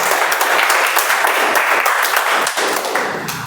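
Online meeting participants clap in a steady, dense patter of applause that holds loud and close for a few seconds before tapering slightly at the end.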